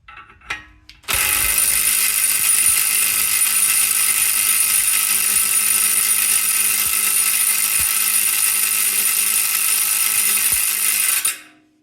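A pneumatic impact gun hammers steadily on a Range Rover Evoque/Freelander 2 transfer box and front differential for about ten seconds in one long, loud, unbroken rattling burst, then cuts off.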